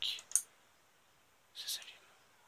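Two computer mouse clicks triggering an Arduino-controlled rotating beacon prototype, sharp close clicks, the first followed by a quick second, separated by quiet, with faint talk nearby.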